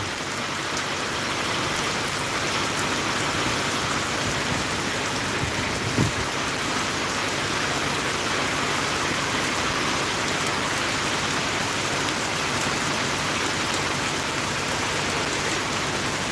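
A downpour of heavy rain hisses continuously and evenly, loud and close, with no breaks and no one speaking.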